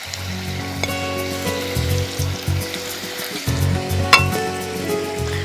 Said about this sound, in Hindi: तो मैं इन्हें फ्राई करने के लिए डाल रही हूँ